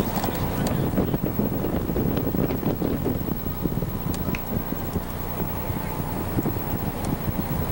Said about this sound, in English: The wind blowing in.